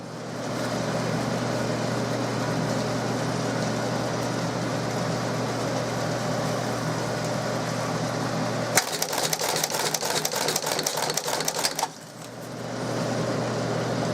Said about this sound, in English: the reason why we use this machine is because in order for us to do this many staples on a booklet maker, it'd be almost impossible